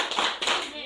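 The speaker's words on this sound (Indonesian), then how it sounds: "Kita beri tepuk hebat." Two quick bursts of hand clapping, close and brief, with voices mixed in.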